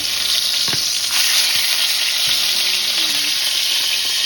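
Salmon fillet searing in a hot pan right after being flipped, giving a loud, steady, close sizzle that holds without a break.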